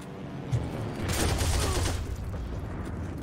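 Sniper rifle fire in the WWII shooter Heroes & Generals, a dense rattling burst of shots and booms lasting a couple of seconds over steady game background noise.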